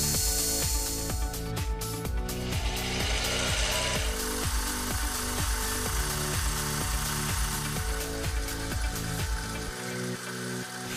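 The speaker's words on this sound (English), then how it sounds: "turned the dome shape using a handheld graver" A metal lathe runs steadily while a handheld graver turns a dome shape on a workpiece, giving a loud, continuous mechanical hum with regular rhythmic ticking and scraping noise on top, with no talk.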